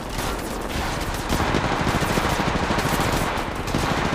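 Sustained automatic weapon fire in Apex Legends Mobile: a dense, continuous burst of loud, close shots that starts a little quieter and swells into heavy, unbroken fire for several seconds, with no voices.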